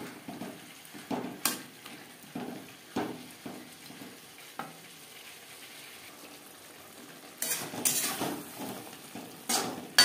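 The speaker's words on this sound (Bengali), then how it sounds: "মশলার সাথে 3-4 মিনিট ফুলকপি কুক করে নেব" Cauliflower frying with spices in a pan over medium flame, with soft sizzling and repeated scraping stirs of a utensil against the pan, quiet and close, louder clattering strokes near the end, no talk.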